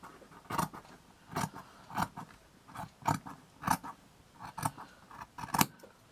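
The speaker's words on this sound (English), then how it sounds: "I'm going to cut that piece off." Scissors snip through material for a handmade lace caddy, giving a run of crisp, close, evenly spaced cuts, each a sharp crunchy snip, with no talking.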